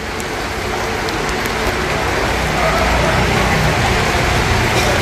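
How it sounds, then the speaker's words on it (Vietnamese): Rain pours down at an outdoor tree-cutting site, a loud, dense, steady hiss with no pauses across the whole stretch. "Hiện tại thì trời cũng đang mưa"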